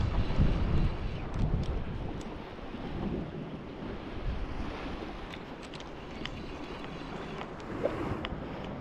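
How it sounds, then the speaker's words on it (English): Wind buffeting the microphone over waves washing onto a winter beach on Anglesey, a steady blustery roar with surf swelling and easing, no voices. "I've just come down to the beach"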